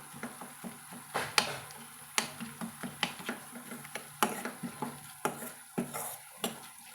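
Cooked tomatoes are mashed in a pan for a tomato dish, giving a steady run of soft wet squelches and light utensil clacks against the metal at close range, with no talk.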